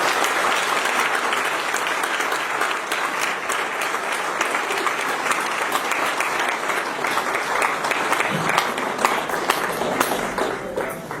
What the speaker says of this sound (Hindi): उसके लिए जोरदार ताली बजाएं